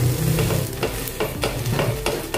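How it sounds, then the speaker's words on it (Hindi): A suji uttapam sizzles loudly on a hot pan while it is flipped and pressed with a spoon, with scraping and thumps over the frying hiss. "अभी इसको हम पलटा देंगे, थोड़ा सा चम्मच से इसे दबाते जाएंगे और 2 मिनट इसको भी पका लेंगे।"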